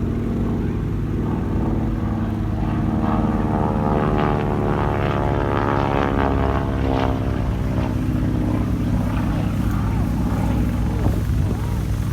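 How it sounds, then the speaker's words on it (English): A North American T6 Texan, known in Commonwealth service as the Harvard, flies at an airshow. Its propeller engine drones loudly and steadily with a rasping, rising and falling tone that holds for the whole passage. "that very distinctive rasp produced by the effect caused by the propeller blades"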